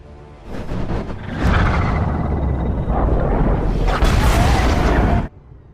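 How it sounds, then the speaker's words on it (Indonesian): Torpedo explosion in a war film about a near-war between America and Russia: a loud, sustained roaring blast with deep rumble and crackling bursts that swells for about five seconds, then cuts off abruptly. "mereka menyadari bahwa ada sebuah torpedo yang melesat cepat ke arah mereka, dan ledakan pun tak terhindarkan"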